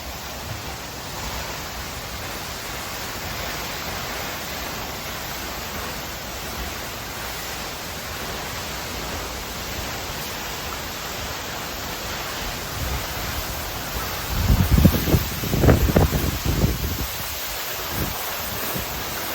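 Cooley Waterfall in Idaho roars as a constant broadband rush heard from the sheltered space behind the falling water, with a few louder splashes and rustling bursts near the end.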